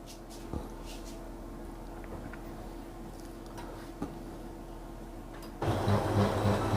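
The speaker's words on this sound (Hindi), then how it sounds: "प्रिंट आना स्टार्ट हो गया" Canon imageClass LBP214DW laser printer starting to print a page after a paper jam; soft scattered ticks and clicks give way near the end to a sudden louder whirring rush as the page feeds.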